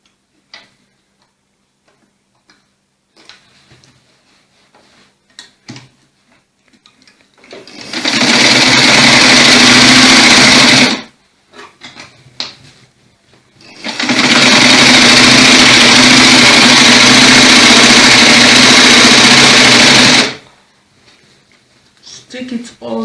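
A sewing machine stitches a 360-degree full-flare peplum in two long steady runs of about three and seven seconds, loud and close, with quiet handling sounds and brief pauses between the runs.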